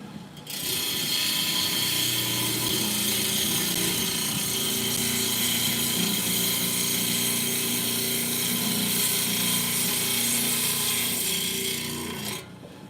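A power tool grinding steadily through rock, a continuous harsh rasping whine that holds at an even level for about twelve seconds before cutting off, with no voices.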